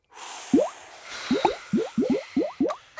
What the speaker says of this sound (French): Et souffler encore une fois. Souffler. Et la bulle va se former.